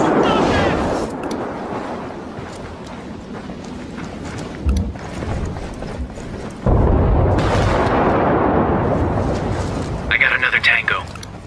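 A frag grenade explodes in Ghost Recon Wildlands, a loud booming blast amid dense combat noise with voices shouting over it.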